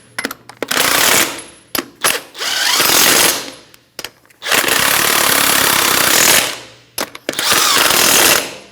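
A pneumatic impact wrench with a 21mm socket snugs the wheel lug nuts on a 2013-2018 Toyota RAV4, firing several loud, close, rattling bursts of a second or more each, separated by short pauses, with no talking.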